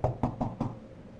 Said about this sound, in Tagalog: May kumakatok, di pa rin pala talaga ako nakakaalis talaga sa apartment.